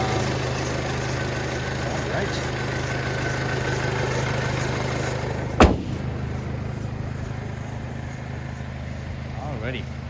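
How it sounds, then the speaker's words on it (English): A 2006 Audi A4 Quattro with a 2.0-liter turbo engine idles smoothly, a steady low hum with no odd vibration, broken once by a brief sharp knock near the middle. "the engine runs nice and smooth"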